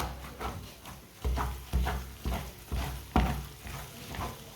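A spoon stirs makhandi halwa as it cooks in a pan, making a steady rhythm of scraping strokes about every half second over a soft frying sizzle, close up with no talking.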